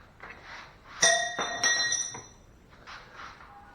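A wrench, tried on a nut in a tight spot while working on a 1957 Chevy, is tossed to the ground, giving a bright metallic clatter and clink with ringing overtones, close by and without speech.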